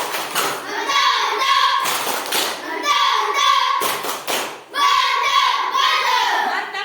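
A classroom of children performs a rhythmic clapping cheer, with loud group claps in a patterned beat and children's voices chanting along throughout.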